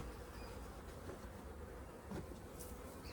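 Honeybees buzz around an opened top bar hive, a dense continuous hum with individual bees droning close past now and then, fairly quiet overall.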